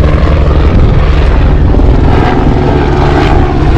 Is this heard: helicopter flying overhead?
yes